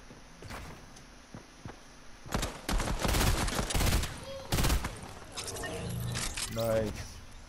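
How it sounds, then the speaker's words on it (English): Fortnite gunfire crackles in rapid bursts for a few seconds, loud and close, over steady game background noise, followed by a player's voice. "Somebody's just trying to shoot at us."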